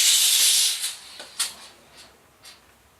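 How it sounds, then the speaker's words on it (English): A Beldray 12-in-1 multifunctional steam cleaner hisses loudly and steadily for nearly a second, then lets out several short, fainter bursts of steam, close by with no voices. "that was the Beldray 12-in-1 multifunctional steam cleaner"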